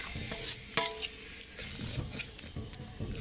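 Ivy gourd curry paste and ingredients stir-fried in a pan for a Thai curry with fresh shrimp, heard as quiet sizzling under repeated scraping strokes and a sharp utensil clink.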